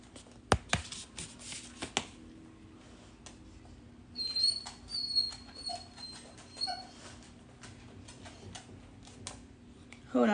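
A dog at home makes scattered whimpers and light movements, with claws ticking on the floor, near and fairly quiet, and a few sharper knocks and shuffling sounds around them.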